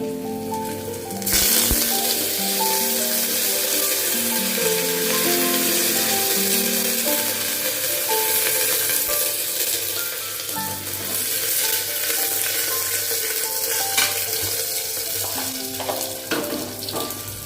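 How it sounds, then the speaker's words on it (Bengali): Curry leaves and spices fry in hot oil for tomato rice, a loud continuous sizzle and crackle with scraping stirs, steady and close throughout. "এবার আমি দেবো কারি পাতাটা"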